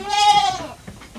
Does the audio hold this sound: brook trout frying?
no